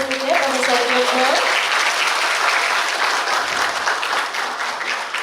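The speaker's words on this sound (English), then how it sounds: "please join me to give a round of applause to our speakers today, Professor Diokno." Audience applause for speakers at an academic Southeast Asian Studies event: steady, full clapping from a crowd that sustains loudly, with a brief voice at the start before the clapping takes over.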